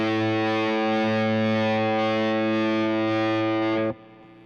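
A heavily distorted electric guitar through a JHS Kodiak tremolo pedal holds a thick, sustained chord with a faint pulsing wobble, ringing steadily before cutting off abruptly near the end.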